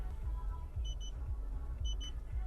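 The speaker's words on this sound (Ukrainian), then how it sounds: "у нас автомобіль влавлює, що їде попереду машина, і от пищить" Two pairs of short electronic warning beeps from a 2020 Jeep Cherokee Limited's sensor detecting a car ahead sound over a low, steady engine rumble inside the vehicle.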